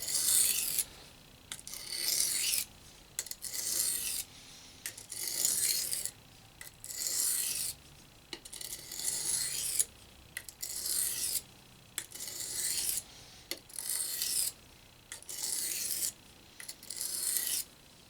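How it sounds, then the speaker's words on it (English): Knife being sharpened on a coarse whetstone with single strokes, a regular series of about a dozen short rasping scrapes, each a second or so long with brief pauses between, close and clear with no talk. "if you're going to use a coarse stone, I would say just do single strokes"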